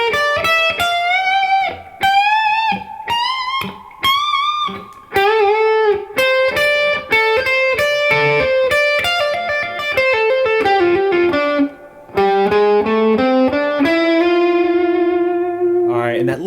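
Distorted electric guitar plays solo lines, a continuous run of sustained, bending notes and quick phrases with effects and a little reverb, loud and alone.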